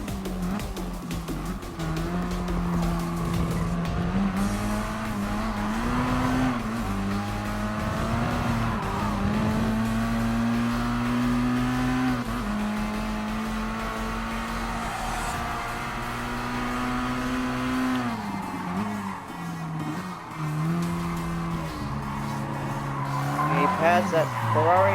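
Engines of race cars in Gran Turismo Sport, including a Ferrari in a mid-ship challenge, droning and shifting pitch continuously with tire squeals, while a player talks over the game sound.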